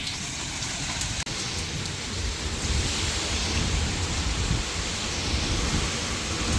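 Hail and heavy rain pour down onto the ground during a thunderstorm, a dense, constant hiss of impacts close by with one sharp crack near the start, with no voices.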